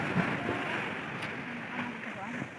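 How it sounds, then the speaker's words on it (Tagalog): Big ocean waves roar close by, a steady loud wash of surf mixed with wind buffeting the microphone. "Ang ingay talaga ng alon guys. Ang lakas."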